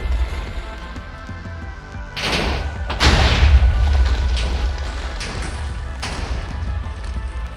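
Minecraft TNT minecarts set each other off in a chain reaction, producing several heavy booming blasts a second or so apart over a continuous low rumble, with no talk.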